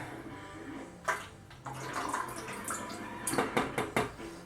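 Water splashes and pours out of an ash catcher in a few short bursts, with sloshing and dripping in between, close by and moderately loud.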